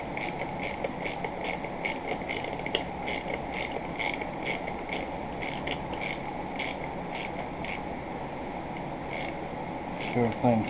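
Rapid metallic clicks of a ratchet tightening a bolt on a homemade chisel sharpening jig, evenly spaced close ticks repeating over a steady hum, with a brief louder clatter at the end.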